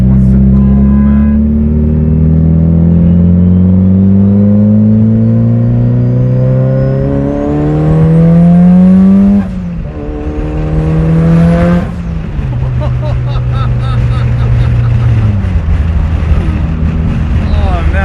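A Mitsubishi Evo 8 engine revs hard while driving, its pitch climbing and dropping through several pulls between gear changes, loud and close, with occasional talk underneath.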